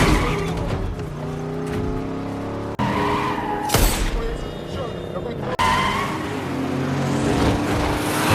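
Tires screech as cars skid through a chase scene from an action film involving Russian mafia cars, loud and continuous with engine roar and an abrupt crash-like burst midway, plus voices and music mixed beneath.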